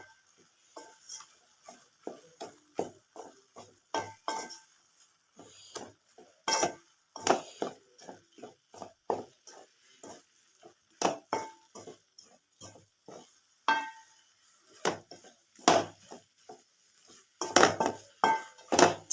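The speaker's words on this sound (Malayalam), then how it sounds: "ഇനി ഇതിനെല്ലാം കൂടെ നല്ലതുപോലെ ഒന്ന് മിക്സ് ആക്കി കൊടുക്കാം." Spoon scraping and stirring spices into chicken masala in a pan, with repeated irregular clinks and scrapes of utensil against metal, close and moderately loud, no talking.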